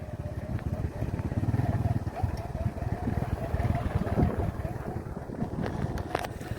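Motorcycle backride on a noisy bike: a steady, close engine rumble runs throughout, mixed with wind buffeting the microphone, and faint voices sit underneath.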